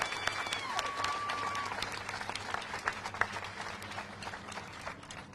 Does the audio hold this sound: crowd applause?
yes